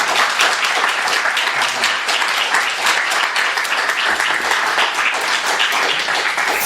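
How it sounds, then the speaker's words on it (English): Bookstore reading audience gives steady, warm applause welcoming author Charles Baxter, dense even clapping throughout with no voices over it. "please give a warm round of applause for Charles Baxter"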